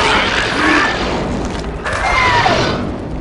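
An explosive charge blasts through wreckage in a Star Wars Republic Commando firefight on Geonosis, a loud sustained boom with crashing debris and a second rumbling burst, set against dense battle noise.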